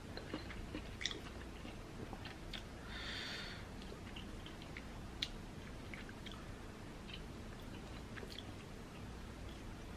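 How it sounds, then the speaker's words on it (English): Lobster being chewed during a seafood boil mukbang, close soft wet chewing and squishing with occasional crunchy bites, steady and continuous throughout, no talking. "Let me taste the lobster."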